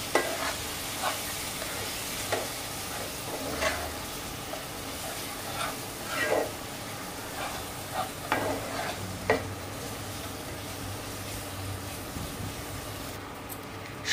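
Spices and salt are stirred and fried in a pan for an egg dish with ground coconut, a constant sizzle broken by regular scraping strokes of a spoon, with no voices.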